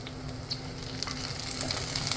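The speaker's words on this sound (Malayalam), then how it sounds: "തക്കാളി അങ്ങനെ ചേർത്ത് കൊടുക്കണം എന്നിട്ടൊന്ന് വഴറ്റി കൊടുക്കാം" Tomato sautéing in a pan for fish curry, a steady close sizzle of frying with occasional light stirring ticks, fairly quiet and uninterrupted.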